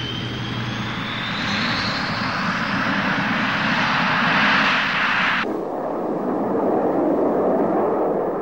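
Soviet MiG-27 jet engines roaring on a dusk training flight, a loud sustained broadband rush with a rising whine that cuts abruptly to a lower, steadier rumble near the end.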